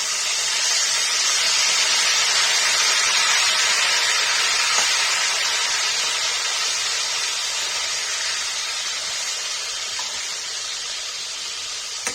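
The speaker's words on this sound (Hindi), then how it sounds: "गाइस देखिए बचा हुआ बैगन भी फ्राई कर लेंगे" Leftover eggplant frying in a pan for a Kashmiri paneer and eggplant curry, giving a steady loud hiss and sizzle that fades slightly over time, with no talking.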